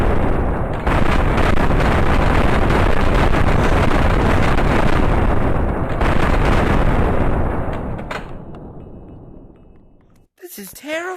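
Sustained heavy gunfire roars in the Granny horror game, a dense continuous barrage of loud rapid shots that cuts off abruptly near the end.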